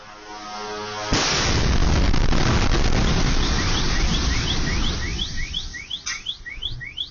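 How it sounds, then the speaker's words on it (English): A drone strike on a high-rise building in Tel Aviv: a sudden loud roaring burst of engine and impact noise that stays heavy for several seconds, then fades into rising and falling siren chirps. "you could hear that drone coming in, you could hear the engine of it roaring as it's coming in, and then it crashes into something"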